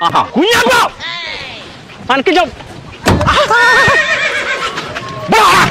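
A horse neighs and whinnies repeatedly at close range, loud shrill calls rising and falling, interspersed with hoof clip-clops and a person talking between the outbursts.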